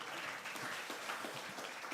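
A church congregation at a Bible seminar claps steadily for two seconds, a dense, even wash of many hands from a moderate distance.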